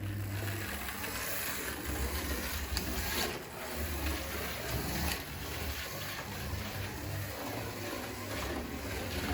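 A 1935 Auto Union Type A model racing car with a resin body runs around a track, giving a steady, loud motor whine and buzz that holds for the whole stretch with slight swells.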